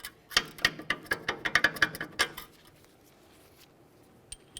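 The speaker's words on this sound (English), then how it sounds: "We'll wiggle this around so we can get the bolt out of there" Metal clinks and rattles as a bolt is wiggled loose from the rear hub of a 2002-2005 Ford Explorer, a quick run of close, bright ticks for about two seconds, then near quiet with a couple of faint taps.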